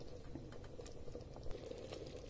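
A pot of Rajasthani-style pearl millet khichdi with water coming to a boil, giving a soft, steady bubbling and faint popping, quiet and continuous.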